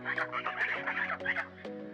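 Domestic geese honk close by in a rapid run of nasal, harsh calls, several overlapping honks with short gaps, fairly quiet overall.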